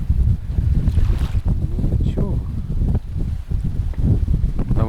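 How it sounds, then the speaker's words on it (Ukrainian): Strong wind buffets the microphone in heavy low rumbling gusts while fishing for pike, with a few brief faint voices and splashing sounds underneath. "Такий вітер, звісно."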